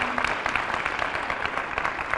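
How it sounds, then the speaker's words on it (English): A school anniversary program audience claps in steady, dense applause throughout, sustained and fairly close, with no voices over it. "Could we have a round of applause?"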